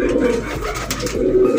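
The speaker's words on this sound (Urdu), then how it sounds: "ماشاءاللہ بہت ہی خوبصورت کبوتر" An Ali wale pigeon on a rooftop coos close by in a short, low, throaty phrase over a steady background hum.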